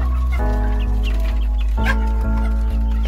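Chickens cluck and squabble as they eat feed eagerly, competing for it. The clucks come close and repeated over a steady low hum, and no one speaks.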